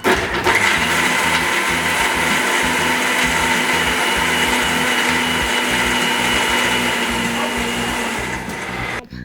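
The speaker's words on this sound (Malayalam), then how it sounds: "ഇനി മിക്സിയുടെ ജാർ അടച്ച് ഇതെല്ലാം കൂടി നന്നായി ഒന്ന് അടിച്ചെടുക്കാം" A mixer grinder with its jar closed blending avocado for a thick shake, a loud continuous motor whir with a churning rattle running steadily for about nine seconds, then cutting off at the end.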